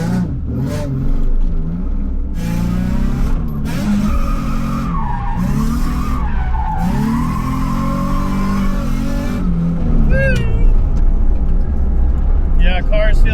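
A Nissan Z lapping the Higashi course at Ebisu circuit: a loud engine rises and falls through the gears with skidding and tire squeal, close and continuous, with voices at times.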